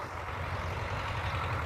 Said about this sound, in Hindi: ट्रैक्टर जा रहा है उधर।